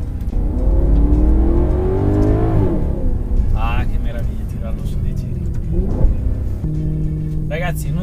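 A Maserati GranTurismo Sport's naturally aspirated V8 revs loudly up through the range, with rising and falling engine tones and sharp throttle blips, up close, while someone talks over parts of it.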